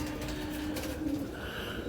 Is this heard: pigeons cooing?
yes